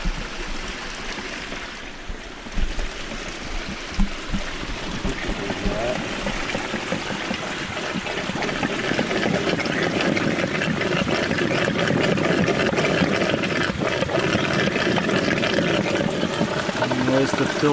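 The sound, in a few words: spring water filter line slurping and sucking up water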